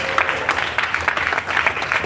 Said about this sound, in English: Jazz Mobile, clap it up.